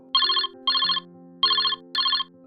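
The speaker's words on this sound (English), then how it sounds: "It began with a phone call." An electronic phone ringtone sounds in four short, bright trilling bursts in a regular rhythm, loud and clear over a soft sustained background tone.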